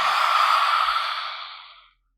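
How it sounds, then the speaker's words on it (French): A deep, breathy exhalation during yin yoga breathing, loud and close, trailing off smoothly into silence after about two seconds. "Et expire."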